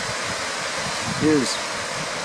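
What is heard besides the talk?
Clear Creek Falls waterfall near Mount Rainier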